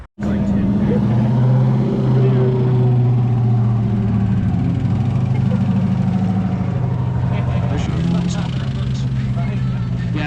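A turbocharged VQ35 V6 with bent connecting rods runs loudly close by, a rough droning idle with a continuous rapid knock, while voices talk over it.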